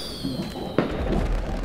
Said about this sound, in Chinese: 外面也在放，我听到烟火声了